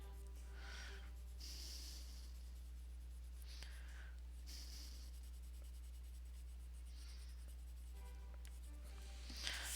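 Coloured pencil scratching over a marker base on paper, repeated short bursts of dry scribbling strokes, close and quiet over a steady low hum.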